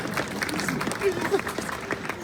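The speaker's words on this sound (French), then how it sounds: "Oui, vous pouvez l'applaudir" Audience applause during a Christmas night annual pass event at Disneyland Paris, a steady wash of clapping from a crowd that runs throughout, with voices mixed in.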